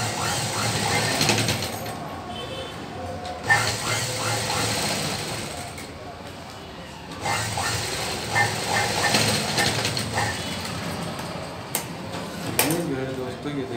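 A sewing machine rattles along stitching a shalwar suit sleeve, a close, continuous clattering hum that pauses and restarts, with a voice talking over it.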